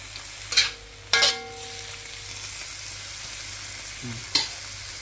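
Carrots and other vegetables for pancit cook in a pan with a low continuous sizzle, broken by three sharp metallic clinks of a utensil striking the pan, and no voices.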